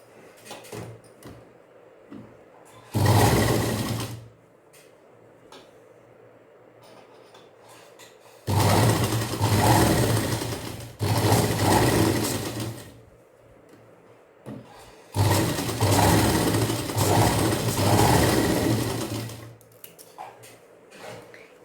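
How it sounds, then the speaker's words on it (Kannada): A sewing machine stitches a churidar neck with canvas layered between front and back fabric, running in three separate loud bursts of fast whirring and clatter with quiet pauses between them. "ನಾನೀಗ ಹೊಲ್ಕೊಬರ್ತೀನಿ."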